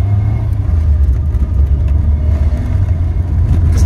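A 1982 Renault 5 LS rolls over a cobblestone road, giving a steady, loud low rumble of tyres and engine from inside the cabin with no break, and no voices.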